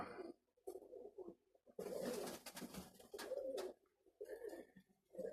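Pigeons coo nearby in soft, repeated throaty phrases, with brief gaps and some rustling between calls.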